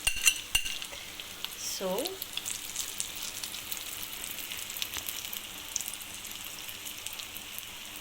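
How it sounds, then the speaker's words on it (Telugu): Potato omelette batter sizzles and fries in a pan, a steady crackling hiss with a few clinks of a utensil and a brief voice in the background. "ఇప్పుడు నేను ఆమ్లెట్ వేయబోతున్నాను."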